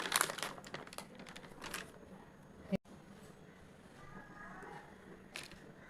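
Oiled aluminium foil being handled while shaping kozhukattai dumplings: sharp, close crinkling bursts in the first two seconds, then quieter rustles and a faint crackle toward the end.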